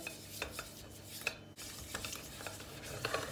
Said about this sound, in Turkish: Hemen şöyle bir karıştırayım bakayım